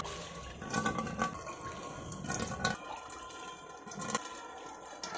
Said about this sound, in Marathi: चाळणीमध्ये आता आपण हे चिक याच्यात ओतून घेणार आहोत